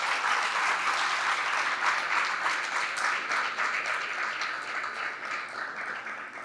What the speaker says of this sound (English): Give everybody one last round of applause because they did amazing.